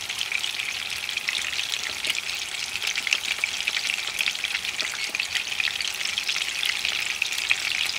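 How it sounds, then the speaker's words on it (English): Meatballs frying in a pan give off a loud, dense, continuous sizzle with fine crackling pops throughout, steady and close with no pauses. "cook one side for about 5 minutes. Then I'm going to turn them and cook for the same amount of time."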